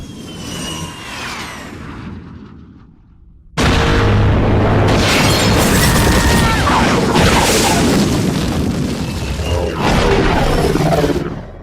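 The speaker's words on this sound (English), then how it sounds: "Check out their sweet work with these seismic charges" Star Wars Episode II seismic charge sound effect: a quieter rumbling passage, then a sudden massive boom that swells into a dense, roaring wall of layered explosive bursts and whooshes lasting several seconds.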